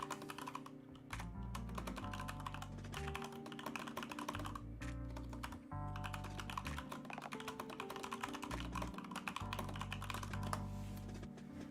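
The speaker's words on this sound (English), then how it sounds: "maybe I should get a quieter keyboard" Continuous fast typing on a loud computer keyboard during a live trading session, dense clattering keystrokes with heavier thocks and steady rhythm for over ten seconds, close and alone without speech.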